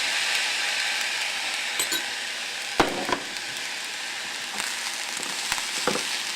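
Soy sauce-seasoned food sizzling and frying steadily in a hot pan, with a few sharp clinks and scrapes of stirring standing out over the continuous crackle.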